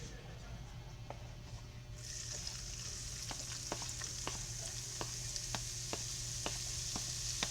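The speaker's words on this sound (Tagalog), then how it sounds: "eto na at maggigisa na tayo. Uunahin natin ang luya." Ginger sizzles in a generous amount of hot oil for a sautéed base, a steady frying hiss that swells when the ginger goes in, with irregular sharp pops and crackles throughout.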